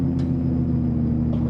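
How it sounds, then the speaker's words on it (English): A heavy log truck's engine brake in American Truck Simulator drones loudly and steadily with a deep rumbling tone, heard alone throughout on the Alaska Dalton Highway in a Mack triple-trailer rig. "that engine brake's gonna make us go crazy"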